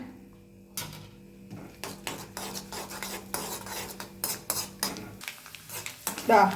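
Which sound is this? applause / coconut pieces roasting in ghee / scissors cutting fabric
coconut pieces roasting in ghee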